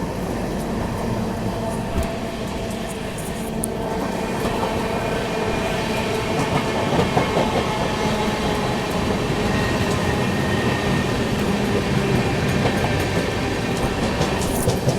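The Sampoorn Kranti Express passenger train rumbles past loudly and continuously at high speed, with rhythmic wheel clatter and rail noise throughout, the Darbhanga–New Delhi Clone train running close alongside.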